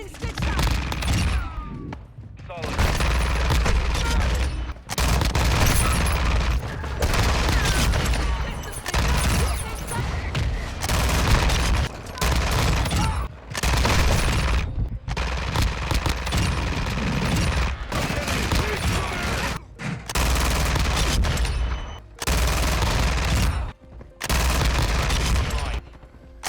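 Bursts of rapid automatic fire from an FTAC rifle in a video game, in repeated loud volleys with brief gaps between them, carrying on for the whole stretch.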